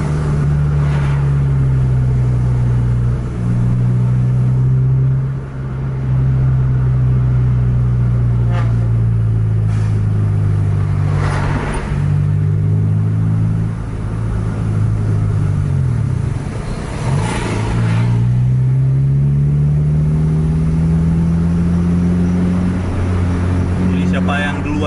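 Double-decker buses racing in dense traffic behind trucks, a heavy diesel engine droning and revving continuously up close, its pitch rising and falling through gear changes, with a commentator talking over it throughout.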